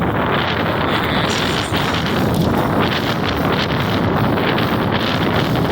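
Strong wind buffets the microphone while riding a bicycle through Houston, a constant loud rushing roar that fills the whole clip without a break, no voices.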